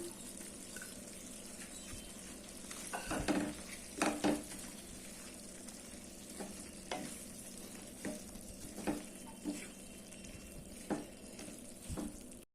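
Drumstick poriyal with grated coconut being stir-fried in a pan, a steady soft sizzle with intermittent scraping clatters of a spoon stirring close by, no voices.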